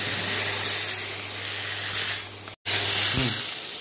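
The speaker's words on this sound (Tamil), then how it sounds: "இந்த மாதிரி நல்ல சிக்கனை ஒரு 2-3 மினிட்ஸ் நல்லா வதக்கிக்கலாம்" Chicken sautéing in a pan for a village-style chicken kurma, giving a steady close sizzle and hiss throughout, broken by a brief dropout near the end.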